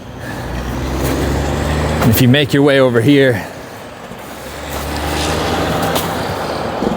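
Cars and trucks on a secondary highway at a busy intersection at night, a continuous broad traffic roar rising and fading as vehicles pass, with someone talking briefly over it midway.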